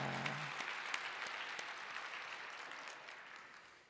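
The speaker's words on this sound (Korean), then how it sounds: "이 새벽에 우리 베들레헴 찬양대가 은혜로운 성가를 해주신 다시 한번 박수 드립니다." A congregation at an early-morning church service applauds the choir after their hymn. Soft, dense clapping with a few sharper claps starts fairly full and gradually fades toward the end.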